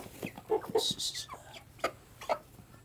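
Several short clucks from broiler chickens nearby, scattered bursts with quiet gaps, mixed with some faint voices in the background, on a farm.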